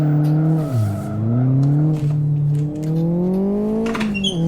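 Engine of a drift car in the Live for Speed racing game, played on a home sim rig, holds a loud, steady revving drone whose pitch dips and climbs as the car slides, with a brief squeal of tires near the end.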